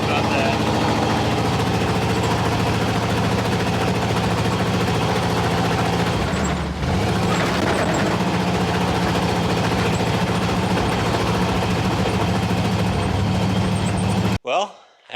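A truck with a mildly rebuilt 360 engine runs after a transmission install, its low, rough drone steady and close throughout, dipping briefly midway before cutting off at the end.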